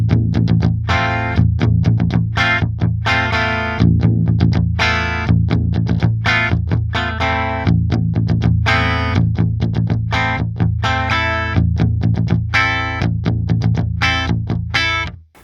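A riff played on a 7-string PRS Mark Holcomb electric guitar, heavily distorted with chorus effect, loud and continuous with choppy rhythmic stabs and palm-muted chugs throughout, no talking.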